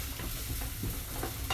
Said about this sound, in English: So you don't want the onion and garlic to colour, you just want it to soften.